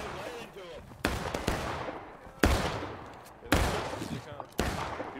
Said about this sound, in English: Take aim. Take aim. Damn it. Fire!